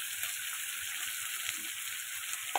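Turmeric, salt, cumin and ginger paste fry in a pan with a steady, soft sizzle, an even hiss with small pops and a light stir near the end; no talking.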